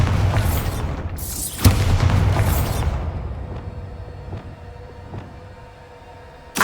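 A Bombarda blasting spell in Hogwarts Legacy detonates as a loud, booming explosion that rumbles and decays over several seconds, followed by a fainter secondary pop and a sharp burst at the end.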